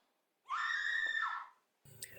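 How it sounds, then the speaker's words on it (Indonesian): A single sharp, high scream lasting about a second, loud and close in a quiet scene of a school bullying film, followed by a short burst of other sound. "tiba-tiba terdengar teriakan Shizuka"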